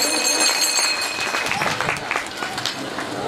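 Applause from a gathered crowd at a religious recitation event welcoming a donor, a burst of many clapping hands that is loud at first then settles, with some voices mixed in underneath.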